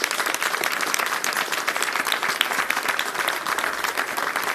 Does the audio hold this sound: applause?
yes